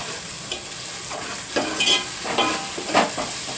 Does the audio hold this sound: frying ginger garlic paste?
yes